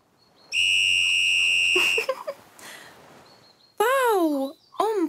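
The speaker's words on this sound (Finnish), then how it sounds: "Sehän on pilli." A toy whistle gives a long steady shrill tone, then two shorter wavering warbling blows, loud and close, with a brief bit of cartoon voice between.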